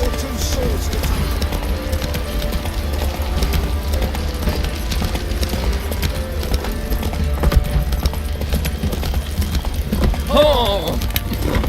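Roach the horse's hooves clip-clop steadily across ground in The Witcher 3, a continuous rhythmic patter under game ambience, with a brief vocal sound near the end.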